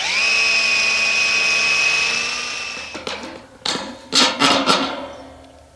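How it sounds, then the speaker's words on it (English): Power drill boring into a metal pipe while building a high tunnel base, first a steady loud whine for about three seconds, then several short ragged bursts of drilling and grinding as the bit bites at an angle. "Whenever you're drilling at an angle like this on a pipe, start by drilling straight"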